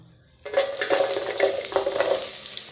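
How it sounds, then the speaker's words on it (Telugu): Onions dropped into hot oil for chicken curry, a sudden sizzle bursting in after a quiet start and then crackling steadily and loudly up close. "ఫస్ట్ ఆయిల్ ఆనియన్స్ వేసుకుందాం"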